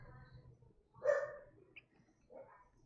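A small dog barks angrily in a couple of short, sharp bursts at moderate distance over a low background hum, with a faint click at the very end.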